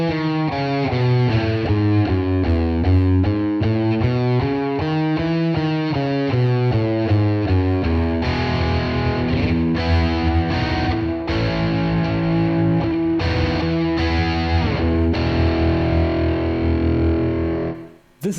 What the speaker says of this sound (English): This is the sound of the E Ionian mode and scale.